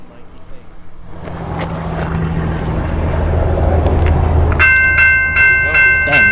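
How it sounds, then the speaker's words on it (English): BNSF locomotive 6111 rolls into Snyder, its rumble swelling from distant to loud and near, a horn chord blasting out near the end while voices talk over it. "Here's 6111 flying into Snyder."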